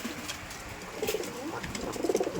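A Rajshahi Giribaz pigeon coos nearby, a few soft, rolling coos in quick succession, growing slightly louder toward the end.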